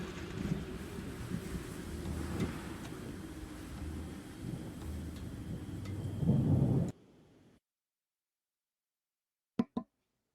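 A thunderstorm sound effect fills the first seven seconds with steady rain, rolling thunder and gusting wind, swelling louder near the end before cutting out; after a pause come two sharp, brief knocks.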